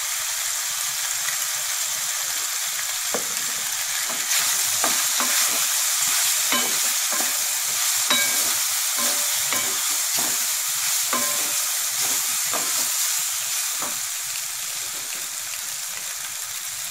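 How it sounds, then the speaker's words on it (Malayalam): Sautéed vegetables and boiled salted wheat pasta sizzle steadily in a pan, with a constant bright crackle and frequent scraping, tapping stirs of a spoon, close and moderately loud, with no talk. "വെജിറ്റബിൾസ് ഒന്ന് വതങ്ങിയ ശേഷം വേവിച്ച പാസ്ത ഇടുക"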